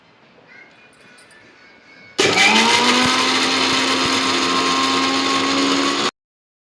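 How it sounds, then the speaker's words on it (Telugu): A mixer grinder blends toor dal chutney with tamarind and a little water, starting abruptly after a quiet moment into a loud, steady whirring roar for about four seconds, then cutting off sharply. "కొద్దిగా నీళ్లు పోసి మిక్సీ పట్టుకోవాలి"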